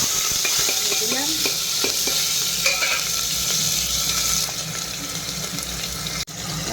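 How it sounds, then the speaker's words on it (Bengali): Cumin seeds, onion and tomato fry in hot oil in a pan, giving a steady close sizzle with scattered scraping stir strokes throughout, followed by a sharp knock near the end. "এখন তেলের মধ্যে এই যে জিরে দিয়ে দিলাম, জিরে আর এই যে পেঁয়াজ আর টমেটো আর দিয়ে দিলাম।"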